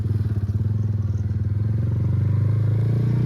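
A fully rebuilt, modified Suzuki Fiero motorcycle idling close by, with a deep, loud, steady engine throb that pulses evenly for the whole stretch.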